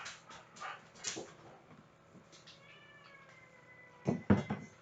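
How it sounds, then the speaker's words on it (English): A dog and cats scuffle indoors: light thumps and movement, a drawn-out meow in the middle, then a louder burst of tussling and yowling near the end. "My dog and my cat are trying to, one of my dogs is trying to defend one of my cats"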